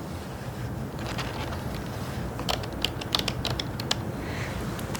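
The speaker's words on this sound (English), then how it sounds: "So I'll just be typing right here." Someone typing on a computer keyboard, with a few scattered clicks giving way to a denser run of crisp, close keystrokes against a quiet hiss.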